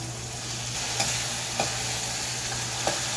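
Sardines go into a hot frying pan with onion, garlic and tomato, setting off a steady sizzle with a few light stirring clicks, close and alone without speech.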